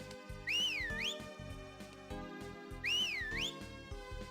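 A melodic whistle sounds in the Harvest Moon: Magical Melody video game, two clear rising-and-falling whistled phrases over cheerful background game music.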